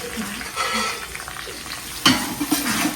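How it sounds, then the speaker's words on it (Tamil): Onions for biryani sautéing in a pan, a close sizzle with scraping stirs and a sharp clank of utensil on pan partway through, followed by a few lighter taps. "இதை நல்லா கோல்டன் ப்ரௌன் வர வச்சு நம்ம வதக்கிக்கலாம்"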